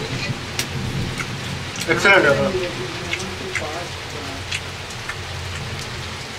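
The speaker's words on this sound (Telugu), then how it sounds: "బయట వర్షం పడుతుంది, మనం లోపలికి వచ్చాం." Rain falling outdoors in a village, a steady close patter on surfaces throughout, with a short spoken word briefly heard over it.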